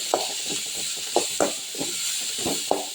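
Onions sautéing in a pan, a gentle hissing sizzle with repeated rhythmic stirring scrapes, close and fairly quiet.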